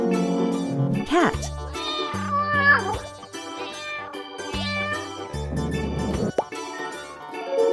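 A domestic cat meows over a steady bed of children's song music, its cry rising clearly above the melody for a moment near the start and again briefly later.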